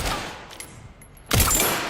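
A single loud gunshot from the video game Resident Evil Requiem cracks out after a quiet stretch, with a trailing ring and low game ambience before it.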